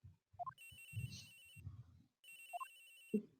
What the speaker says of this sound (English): Agent Hex's phone! It's ringing somewhere, sir.